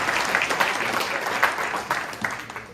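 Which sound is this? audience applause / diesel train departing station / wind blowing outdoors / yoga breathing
audience applause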